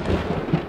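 Thunder from a thunderstorm rolls in as a loud, low, continuous rumble, heard alone in a short burst.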